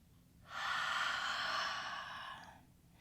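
A single long, breathy exhale during a Pilates hamstring stretch, close and fairly soft, swelling quickly and fading out over about two seconds.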